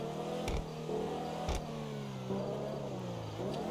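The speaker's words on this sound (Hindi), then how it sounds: "गाड़ी की आवाज़ कितनी बढ़िया है।" In GTA V, a car engine hums steadily at close range, with a few sharp rev bursts and pitch shifts as it shifts gears.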